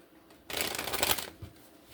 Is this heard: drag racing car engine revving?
no